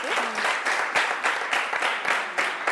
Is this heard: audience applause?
yes